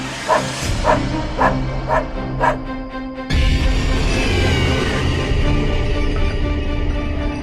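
A dog barks five times in a quick, rhythmic series, and then a loud, steady rush of noise abruptly takes over.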